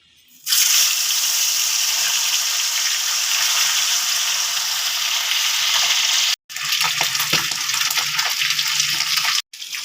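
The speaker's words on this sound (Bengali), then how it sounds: "সব মাছগুলো এরকম সুন্দর লাল লাল করে সোনালি রং করে ভেজে তুলে নিতে হবে" Bhetki fish pieces fry in hot oil on a gas stove, giving a loud, continuous close sizzle with two brief cuts in the sound and no talking.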